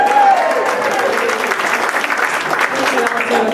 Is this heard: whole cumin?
no